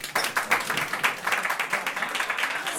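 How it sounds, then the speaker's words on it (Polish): Stand-up comedy audience applauds, a crisp, busy clatter of many hands, fairly close and steady throughout with no talking on top. "Dajcie brawa, kto z Państwa pił amarenę kiedykolwiek"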